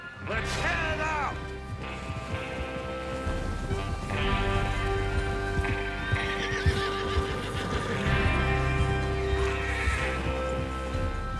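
Several horses whinny and neigh over a steady clip-clop of hooves, with background music and ambient game sounds underneath, in Red Dead Redemption 2.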